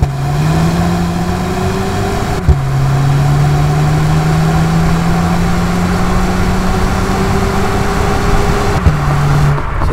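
A VW Polo GTI with an APR exhaust revving up through the gears, its engine note climbing steadily, dropping briefly at two gear changes, then rising again, loud and close with no talking.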